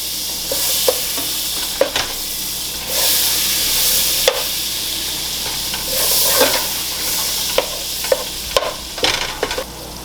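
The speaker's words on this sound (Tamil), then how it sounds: "இது நல்லா மெல்டட் ஆகட்டும்." Three tablespoons of unsalted butter melting in a pan, giving a steady soft sizzle and hiss with occasional sharper crackles and stirring scrapes throughout, close and alone with no talk.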